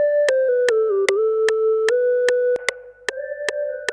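A trap beat melody plays dry without effects, a bright synth line of sustained tones broken by regular sharp clicks, loud and alone.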